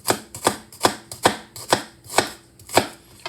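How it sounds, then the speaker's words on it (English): Knife chopping through an onion on a cutting board, about nine crisp, close, evenly spaced cuts in a steady rhythm with brief pauses, no voices. "now the onion, I don't cut the top, so you just have to cut them in the middle"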